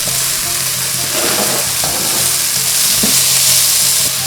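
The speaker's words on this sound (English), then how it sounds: "Next, you add in your beef. And you want to let that saute for a little bit till it gets a little color." Beef sears in olive oil in a pan, a loud, dense, steady sizzle with occasional crackles and stirring noises, with no one speaking.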